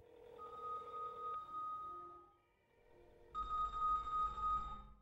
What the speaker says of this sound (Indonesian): terdengar suara ponsel yang berdering di ruangan yang sama